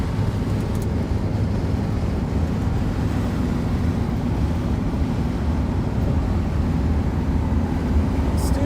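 A 1956 Lincoln Continental Mark II cruising at highway speed, a steady low engine and road drone with wind rush, constant and close from inside the cabin.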